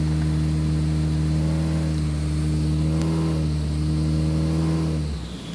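A Honda Civic fitted with a cheap $500 engine accelerating hard on a run, its engine note steady and loud from inside the car and rising before dropping away at the end.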